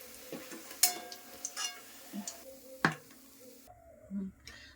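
Pakoras are lifted out of hot oil in a home kitchen: a soft bubbling sizzle sits under sharp metal clinks and scrapes of a utensil against the pan, with a brief quiet pause near the end.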